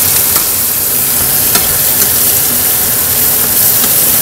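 Mutton fried rice being stirred and fried over a high flame, a steady loud sizzle with scraping stir strokes now and then, close up and without voices.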